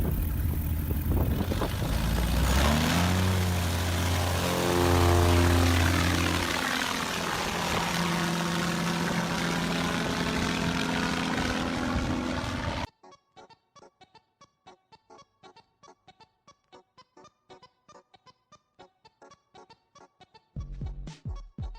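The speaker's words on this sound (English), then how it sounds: "This plane doesn't need much space to take off." A small propeller airplane taking off, a loud, steady engine and propeller drone whose pitch shifts as it climbs away, cutting off abruptly to quieter background sounds afterward.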